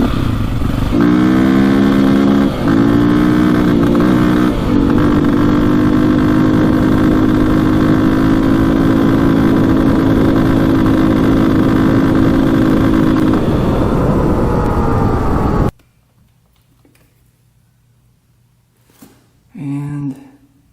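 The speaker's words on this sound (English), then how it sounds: "See how it like kind of hits the rev limiter there?" A KTM 450 dirt bike engine revs loudly and bangs against the rev limiter, the tone stepping up and holding steady for about fifteen seconds before cutting off, followed by near silence and a brief voice.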